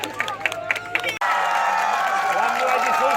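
Crowd applause breaks out suddenly at a village welcome ceremony, dense, loud and sustained after a voice speaks over it.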